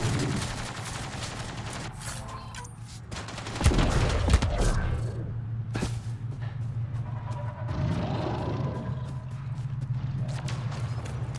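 Gunfire in the video game Mass Effect: Andromeda, bursts of shots and a louder blast over a constant low game hum and ambient battle noise, no clear talk.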